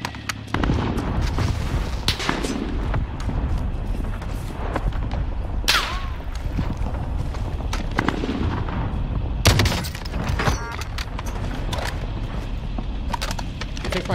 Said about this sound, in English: I'm gonna have to airstrike one of them. Allied cluster strike arriving.